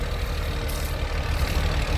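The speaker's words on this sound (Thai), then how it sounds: "ตัวนี้ทีเจ็ดศูนย์หกศูนย์ อ่ะ รถไถยักษ์พี่น้อง" A New Holland T7060, a large farm tractor, runs with a steady low, rumbling engine drone close by, continuous and unchanging over a couple of seconds.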